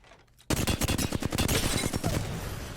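Rapid automatic gunfire in Apex Legends aimed at a training dummy, a loud, close burst of quick evenly spaced shots that starts suddenly after a quiet moment and continues to the end.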